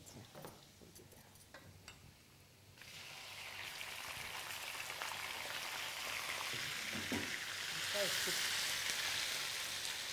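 Raw chicken hitting garlic in hot oil bursts into a loud, steady sizzle after a quieter opening of light crackle, the frying hiss building and holding close for the rest of the moment.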